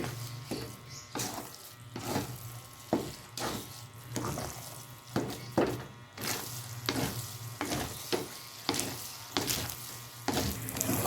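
Biko, a sticky rice cake, being stirred in a pot with a spoon, giving a rhythmic series of wet, thick scraping and squelching strokes roughly every half second over a faint low sizzle.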